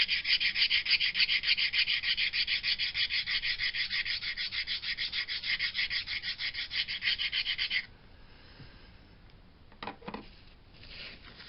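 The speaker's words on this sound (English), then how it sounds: "First thing I want to do is rough this up with 80 grit sandpaper." Hand sanding with 80 grit sandpaper roughs up the rosewood bridge area of a Takamine guitar with a koa top. Quick, rhythmic back-and-forth rasping strokes run for about eight seconds, followed by faint handling knocks.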